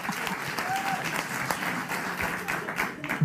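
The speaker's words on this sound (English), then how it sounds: "They're applauding that." An audience applauds steadily at a live comedy talk show taping in a studio, dense clapping at a constant level throughout with a few faint whistles above it.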